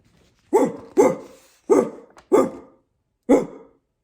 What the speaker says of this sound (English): a commotion of noisy dogs